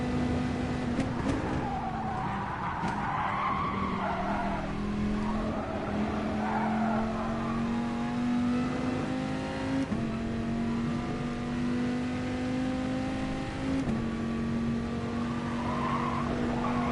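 An Audi race car in the video game Gran Turismo Sport brakes hard, its tires squealing and skidding under a droning engine note that rises and falls. The engine runs loud and continuous.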